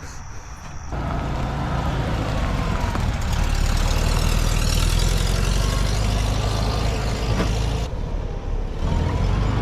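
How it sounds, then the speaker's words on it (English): A 1952 Volkswagen Beetle that sat for 40 years runs with a chattery clutch, giving a steady rumbling engine drone with a rough low throb, close and loud throughout with no talking. "This clutch is real chattery"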